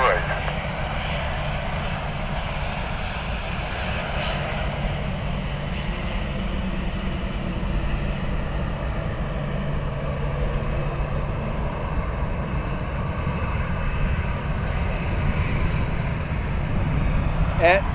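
A plane lines up on the runway at Dublin Airport, its engines giving a steady, loud, continuous roar throughout, with a faint voice under the noise.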